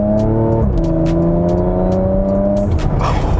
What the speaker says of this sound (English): that upshift pop and crackle